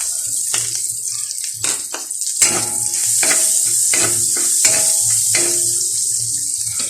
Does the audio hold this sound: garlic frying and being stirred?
yes